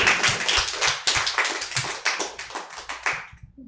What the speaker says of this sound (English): I know patronizing applause when I hear it.